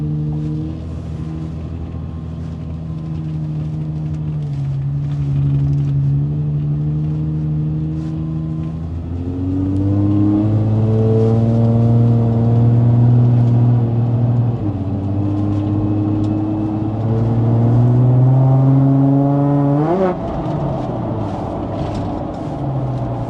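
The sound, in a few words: Toyota engine revving and accelerating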